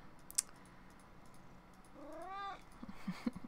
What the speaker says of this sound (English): that would be one of my cats, wondering why I'm not paying attention to him